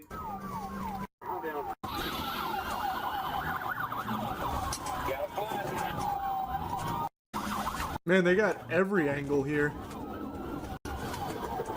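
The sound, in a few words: police car sirens during a police chase video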